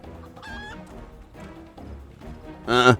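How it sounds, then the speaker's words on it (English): Clucking and squawking from a chicken in the video game Final Fantasy XIV, several short calls ending in a loud, harsh squawk, mixed with game background sounds. "It's the king of the chickens."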